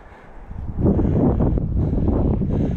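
Wind blows outdoors on a hillside, rising after a moment into a loud, low, rumbling buffet against the microphone that persists to the end.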